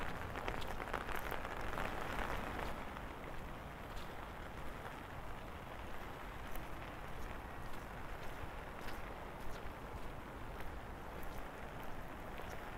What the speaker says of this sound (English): I'm going to try and get a sheltered place to get a coffee until this rain goes off